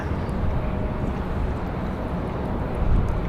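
Jet airliner departing Raleigh Durham airport, a steady broad roar heard from a distance with some wind buffeting, continuous and fairly even throughout.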